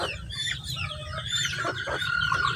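Young chickens and baby cockerels, one to two months old, clucking and chirping close by on a farm in the morning, a steady stream of overlapping calls with no talk.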